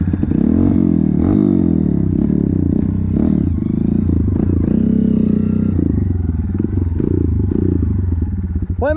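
A motorcycle rides a rough dirt trail, its engine droning and revving steadily up close, with clattering and scraping from the terrain throughout.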